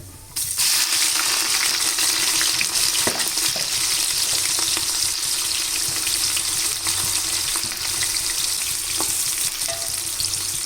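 Large onions dropped into hot oil with bay leaf and cinnamon for Arabian chicken madhooth, bursting into a loud steady sizzle with faint clinks and stirring.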